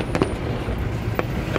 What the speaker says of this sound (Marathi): शेजारीच फटाके फुटताय, कोणाच तरी लग्न लागलेलं दिसतंय.